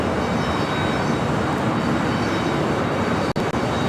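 A KLM Boeing 777-200ER airliner at LAX makes a steady, loud broadband engine roar that holds evenly throughout, with no talk.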